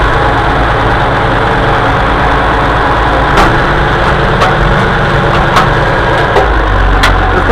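A combine harvester engine runs loud and steady at close range, a deep constant rumble with a few brief clanks over it.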